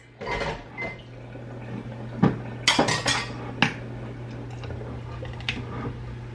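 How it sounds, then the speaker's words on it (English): Pots being swapped on a kitchen stove: a series of metallic clanks, knocks and scrapes at irregular intervals, close by, over a steady low hum. "I'm actually going to switch pots"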